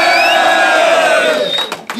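A loud crowd roars and cheers at a rap battle, a dense sustained wall of shouts and whoops that fades slightly toward the end.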